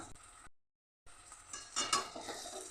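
Onion and garlic paste is stirred in a pan, with quiet scraping and soft sizzling after a short silent gap, growing a little louder toward the end, with no talking.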